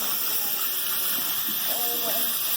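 A tap runs steadily while hands are rinsed clean of soap: a continuous close hiss and gush of water with no break.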